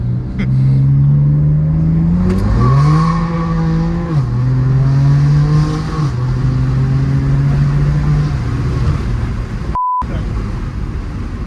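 A tuned 2020 BMW M2 Competition running E70 fuel roars loud and sustained on a dyno, its engine note climbing through several stepped pitch rises and drops as it pulls through the gears.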